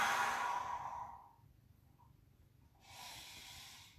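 Slow breathing exercise for elderly people with reduced mobility: a long audible exhale through the mouth, a brief quiet pause, then another breath begins, close and alone.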